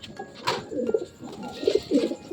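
A racing pigeon coos close by in soft repeated low throaty phrases, several short coos in a row with little else around.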